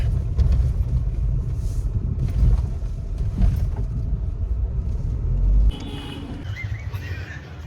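A car drives slowly with a low engine rumble and road noise that drops off abruptly as it comes to a stop and parks, leaving quieter ambient sound and faint birds.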